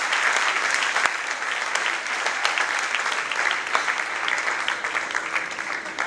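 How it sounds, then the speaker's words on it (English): A church congregation claps in sustained, dense applause after a sermon, a steady roar of many hands heard fairly close for several seconds, with no speech over it. "Let's give the Lord a round of applause."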